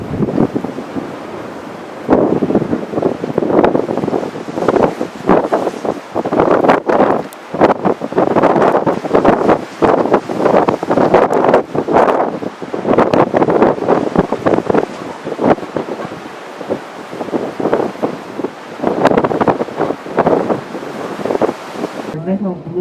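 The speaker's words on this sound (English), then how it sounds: "you won't hear anything after that because it's very windy" Strong wind on the deck of a cruise ship buffets the microphone in loud, continuous gusts, a roaring rumble that surges and eases throughout with no voices.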